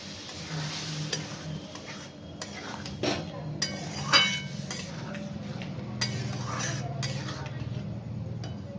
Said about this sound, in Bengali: এরপরে আমি যে ছোলার ডালের জলটি ছিল সেইটি আমি এতে দিয়ে দিচ্ছি